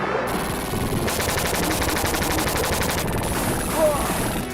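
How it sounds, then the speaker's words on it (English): Rapid, evenly spaced shotgun blasts from a retro video game form a fast, loud, continuous burst of gunfire that runs through most of the moment and then stops. "not even a Spaz 12 can fire this fast"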